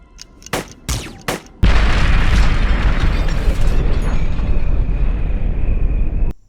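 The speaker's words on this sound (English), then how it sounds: "they keep using fire rockets and those have explosion radius of a fucking fat man" A fire rocket explodes in the video game UFO Aftermath, with a few sharp clicks and pops leading into a loud, sustained booming blast that rumbles for several seconds before cutting off abruptly.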